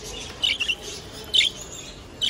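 A few high, thin chirps from small birds, short and scattered, over a quiet background.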